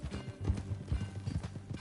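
In Red Dead Redemption 2, horse hooves clop in a quick, uneven rhythm close by, with a soft whinny partly buried under the hoofbeats.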